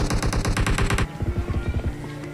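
Rapid automatic gunfire from the PUBG battle-royale game, with a fast, evenly spaced burst of shots followed by a second, slightly duller volley of rounds.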